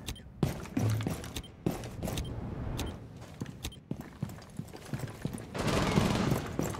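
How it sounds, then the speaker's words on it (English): Bursts of gunfire in a Rainbow Six Siege match, sharp repeated shots in uneven clusters with a denser spray near the end, heard fairly close with no talk over them. "He was shooting at me"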